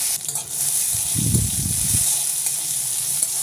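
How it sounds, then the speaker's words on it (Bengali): Cashews and raisins frying in a tablespoon of oil in a kadai for basanti pulao make a steady, bright sizzle throughout. A short low rumble of stirring comes in midway, with no speech. "এগুলো আমি বাদামি করে ভেজে নিচ্ছি।"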